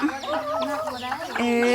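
Chickens in a rural Lao farmyard cluck and call in short, rising and falling bursts, loud and close, with a voice talking briefly at the same time.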